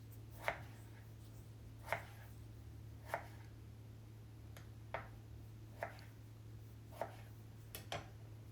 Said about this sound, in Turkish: Bütün patateslerimizi bu şekilde klasik kızartma şeklinde ince ve uzun dilimler halinde kesin.